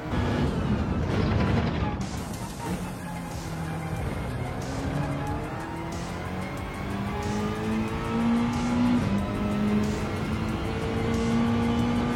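A race car on a circuit lap accelerates at full throttle, its engine note climbing steadily through the gears, loud and close throughout with no speech.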